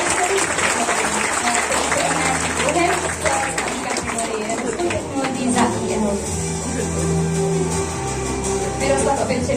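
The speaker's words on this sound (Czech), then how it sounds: "Gratulujeme a velký potlesk pro druhé místo." Audience applause at a technology award ceremony, sustained loud clapping from a crowd in a hall, with an announcer speaking over it.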